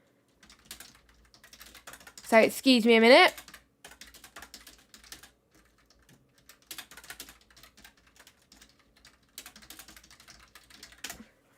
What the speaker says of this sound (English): You're probably going to hear me frantically typing.